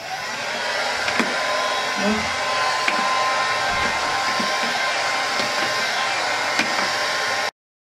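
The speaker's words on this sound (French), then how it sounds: "je vais juste terminer de me sécher les cheveux" A hair dryer blows with a steady loud whir, a few small knocks and bumps as it moves, then cuts off abruptly.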